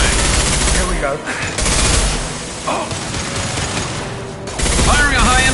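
Gunfire in Mass Effect 2 Legendary Edition rattles loudly in sustained bursts with booming impacts, broken by short lulls.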